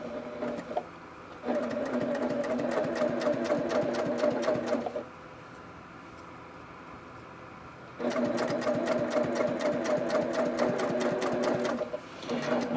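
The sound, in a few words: sewing machine stitching along fabric edge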